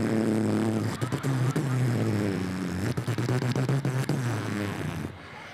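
A voice imitates the booming bass of a loud car sound system, producing throbbing low rhythmic hums and beats for about five seconds and cutting off abruptly at the end.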